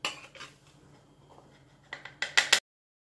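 Metal utensil clinks and scrapes against a bowl while mixing cake batter for a Black Forest cake, a few soft stirs followed by a quick run of louder taps near the end.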